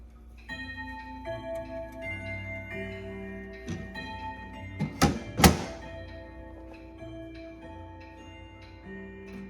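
Urgos Westminster chime grandmother clock sounding a sequence of sustained ringing chime notes at the hour, with a couple of sharp knocks partway through and faint ticking underneath.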